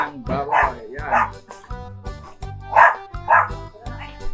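Several dogs bark and yip in loud, repeated bursts nearby, several seconds of back-to-back barking around an outdoor whole-pig lechon cook.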